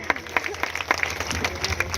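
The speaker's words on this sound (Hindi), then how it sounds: "जितने भी सिल्वर स्टार है इनके सम्मान में तहे दिल से जोरदार तालियां हो जाए" Scattered, fairly quiet applause from an audience at a company business-plan meeting, individual claps popping unevenly with some background voices.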